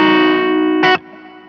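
An electric guitar chord played through a BOSS GX-1 multi-effects unit with a subtle hall reverb, ringing out loud and sustained, then a brief strum before the sound cuts to a faint reverberant tail.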